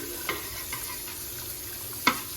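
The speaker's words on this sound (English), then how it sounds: "So just give it a good stir." Noodles being stirred in an oiled pot of water, heard as a few sparse, brief clinks and scrapes of the utensil, the loudest near the end, over a quiet steady background hiss.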